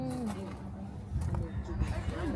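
Pigeons coo softly in the background on Oahu's North Shore by the sea, a few low rounded calls blending under nearby chatter and ambient noise.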